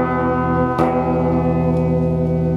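A sustained chord rings steadily and evenly, with one sharp click partway through and no talking.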